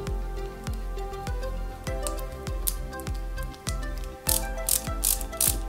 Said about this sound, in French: on n'a plus qu'à visser tout ceci avec 3 vis CM